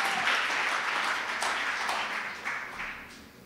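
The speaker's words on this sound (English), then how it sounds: "Come on, clap your hands in this place." A church congregation claps together in a loud, sustained round of applause that fills the hall and keeps going, with a few sharper claps standing out before it eases slightly near the end.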